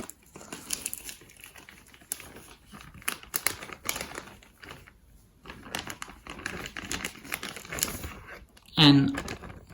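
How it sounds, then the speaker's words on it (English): A whole coconut with a delicate root sprouting from it is set back inside a plastic zip fridge bag, giving a burst of crinkling plastic near the end, amid scattered handling noises throughout. "Now I will put my coconut inside the fridge bag again."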